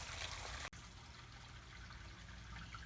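Stream water diverted around a wall site for a small hydroelectric waterwheel trickles and burbles steadily, faint and close, with a brief knock early on before the flow continues quietly alone.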